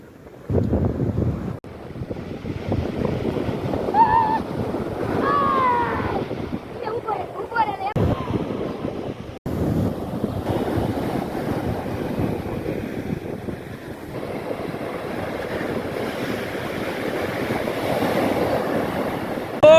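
Stormy sea with heavy waves and wind on the coast, a steady loud roar of surf and wind buffeting the microphone for the whole stretch, with the sound surging in the first half and a voice briefly audible early on.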